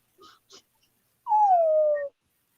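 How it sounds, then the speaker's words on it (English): A puppy lets out a long, drawn-out whimper, loud and close, following a couple of brief soft noises, with no talking over it. "You have a new puppy there, Tim?"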